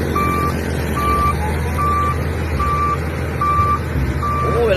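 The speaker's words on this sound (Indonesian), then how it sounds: "Wah, ini adalah mobil eskavator teman-teman." Steady electronic reversing beeps from a toy excavator, six evenly spaced tones repeating over a constant background hum, fairly loud and close with no talk.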